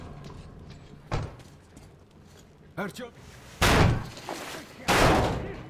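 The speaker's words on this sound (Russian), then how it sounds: "Дверь поддается." A heavy door is forced open and slams twice in the Metro Exodus video game, two loud full-band bangs about a second apart after a softer earlier thud and clatter, with a voice calling out briefly.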